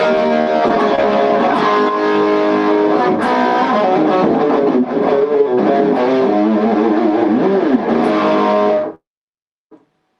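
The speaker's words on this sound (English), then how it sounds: "that's just the guitar and amp" Dry electric guitar played straight into an amp with no effects, a loud continuous run of chords and lead lines that stops abruptly near the end, leaving near silence.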